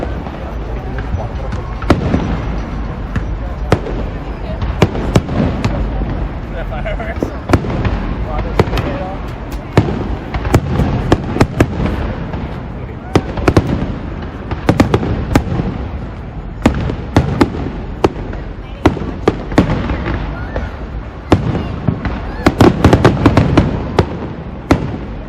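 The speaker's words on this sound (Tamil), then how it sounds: "ஒரு 10 to 15 மினிட்ஸ் வந்து இந்த ஃபயர் ஒர்க்ஸ் எல்லாம் நடக்குது." Fourth of July Independence Day fireworks in the USA, a continuous barrage of loud booms and crackling pops in rapid irregular succession, with people talking and cheering underneath.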